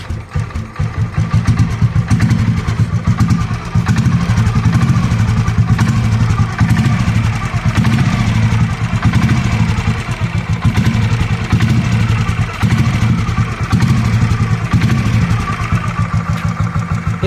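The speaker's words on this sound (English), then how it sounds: "I am going to rev it a bit so that you can hear how the bike sounds when it's" A Royal Enfield Bullet Machismo 500 LB motorcycle in stock condition, its single-cylinder engine revved steadily and loud up close, with a thumping pulse and continuous rumbling throughout, no talking.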